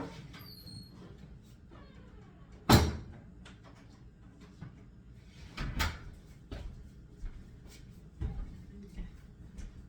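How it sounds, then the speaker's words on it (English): A back door swings shut with a sharp thud, then a few softer clicks and knocks follow as it is locked, set against quiet kitchen room tone. "Let me lock that back door."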